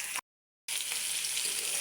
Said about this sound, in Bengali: দিয়ে লবণ হলুদ দিয়ে ভালো করে ভেজে নিচ্ছি।